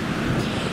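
Steady, broad rushing wind noise on a beach among dunes, like gusts buffeting a microphone outdoors, continuous and fairly loud with no voices.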